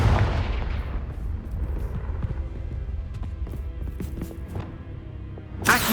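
A Confringo blasting spell goes off in Hogwarts Legacy with a deep rumbling boom that fades over several seconds into low crackling game ambience, then a fresh burst of noise at the very end.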